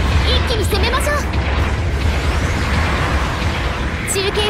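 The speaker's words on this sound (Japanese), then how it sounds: "後方部隊から支援砲撃が出ます" Support artillery bombardment in a Gundam video game, with deep rumbling booms beneath chirpy radio voices and game effects that continue across the span.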